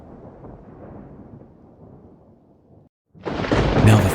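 A thunder and lightning sound effect: low rumbling thunder rolls for about three seconds, a brief pause, then a sharp, loud crack of lightning bursts in with a bright crackling roar, alone with no voices.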